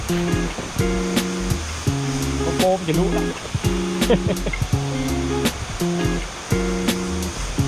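Rushing water from a waterfall pours steadily in the background while a person talks in front of it, the splashing roar continuous under the voice.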